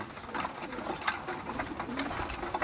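Racing pigeons being conditioned for 450-mile races coo softly in a loft, low murmuring calls repeating over a steady hiss of background noise.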